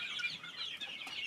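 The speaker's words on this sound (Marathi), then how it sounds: "आपला हे आता कोंबडे आहेत, आपल्याला दिसत आहेत." Roosters kept for a village fair cluck softly nearby in a short, continuous run of murmuring calls, with no talking.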